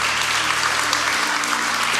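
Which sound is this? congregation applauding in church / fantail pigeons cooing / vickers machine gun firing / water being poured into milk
congregation applauding in church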